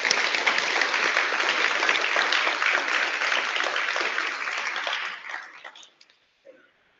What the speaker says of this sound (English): let's give Chloe a round of applause